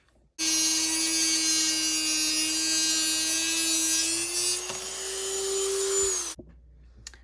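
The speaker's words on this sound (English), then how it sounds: "kind of just a little close to the bolt, kind of like right there is where I'll start cutting" A small high-speed rotary cutting tool cuts through the mounting bolts of Golden Horse skates, a loud steady whine that shifts slightly in pitch as it bites, then stops abruptly, with no talk.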